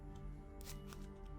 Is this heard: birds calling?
no